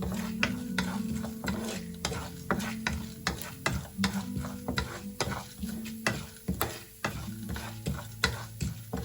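Urad dal frying in oil in a pan for sambar, with a soft steady sizzle under repeated scraping strokes of a spoon stirring against the pan, close and moderately loud.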